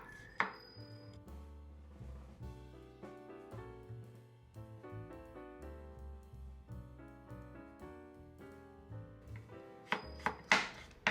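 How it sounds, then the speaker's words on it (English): A knife thinly slices cucumber on the diagonal against a cutting board, giving a quick, steady run of light crisp taps with a few louder knocks at the start and end, close and alone without talk. "Slice the cucumber thinly on the diagonal."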